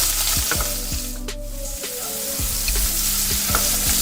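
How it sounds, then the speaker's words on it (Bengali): Shrimp seasoned with salt fry in a pan, with a loud, close, continuous sizzle broken by regular scraping strokes of a spatula stirring them. "চিংড়ি মাছটাকে প্রথমে ভালো করে ভেজে নিচ্ছি।"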